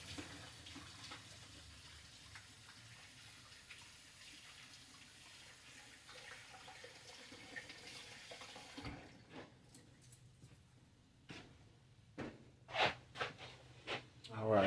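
A running sink tap pours water while someone washes their hands in a home kitchen, a steady hiss for several seconds. The water then stops, leaving a few scattered clicks and knocks that grow louder toward the end.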